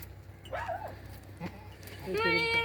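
A mother goat bleats twice while feeding her kid, a short wavering call followed by a louder, quavering bleat near the end, nearby and fairly quiet otherwise.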